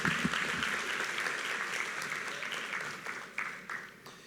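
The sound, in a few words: audience applause at graduation ceremony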